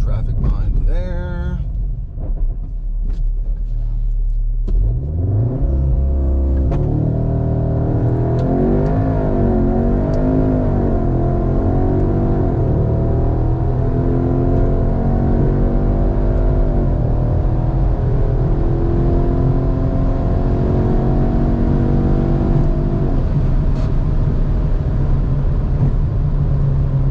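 A car running E85 fuel with a Racingline PCM tune makes a drag run, its engine droning loudly and climbing in pitch through gear changes for nearly the whole stretch, steady and close.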